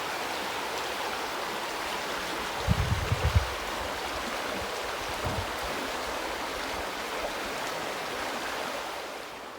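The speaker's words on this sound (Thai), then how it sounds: "ฟังเสียงน้ำจ้ะ" A stream in the English countryside flows with a steady broadband rush, joined by a brief cluster of low splashes or thumps near the start.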